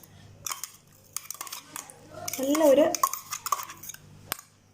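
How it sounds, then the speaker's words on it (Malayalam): Ground gooseberry paste is scraped and moved into a bowl, giving a series of close metallic clinks and scrapes of a spoon against a vessel, with a brief louder scraping stretch in the middle. "ഇനി ഈ പേസ്റ്റ് നമ്മൾ ഒരു ബൗളിലോട്ട് മാറ്റാം."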